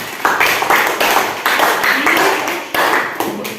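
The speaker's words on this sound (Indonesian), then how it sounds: "Ahsanti, tepuk tangan untuk semuanya." Students in a classroom clap their hands together in a loud, close burst of applause, with uneven rhythmic claps continuing for several seconds.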